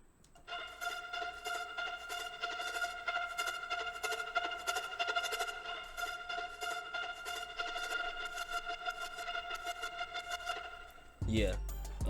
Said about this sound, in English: Next, we got this violin from the